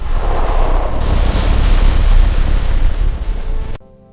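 Loud, dramatized roar of ocean waves surging over a city, a dense continuous rush of surf and wind that swells and then cuts off abruptly near the end.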